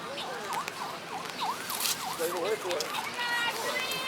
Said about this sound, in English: You hear a siren coming.